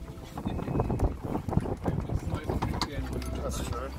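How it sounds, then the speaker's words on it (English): Wind gusts buffet the microphone on a boat during a fishing trip, a rough, rumbling low roar with fluttering bursts, mixed with some knocking and faint voices. "It is a little bit windy."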